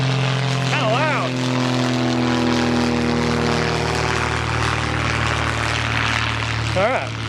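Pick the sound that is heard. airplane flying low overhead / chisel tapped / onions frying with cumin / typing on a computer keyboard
airplane flying low overhead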